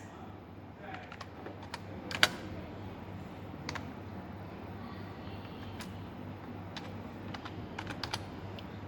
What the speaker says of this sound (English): So type in the name of the first subfolder, that is indoor games. So write here, type here indoor games.